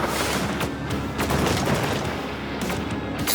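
Rapid bursts of missile fire in the Starfox-style space shooter Rogue Flight, a dense run of sharp booming shots over a loud roaring engine bed, with no pauses.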